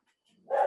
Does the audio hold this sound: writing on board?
no